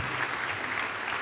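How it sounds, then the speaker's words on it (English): A small comedy talk audience claps in brief, dense, steady applause, close and even, with no talking over it. "Yes, round of applause."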